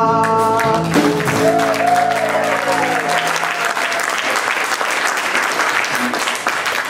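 A synagogue audience at a Purim play cheers and applauds. Sustained, loud clapping fills the room right after a sung musical phrase fades out, continuing steadily to the end.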